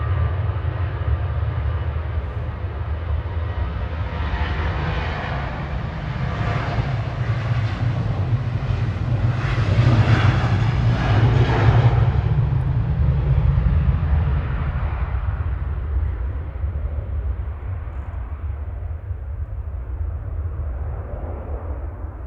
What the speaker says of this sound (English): Jet2 on the roll.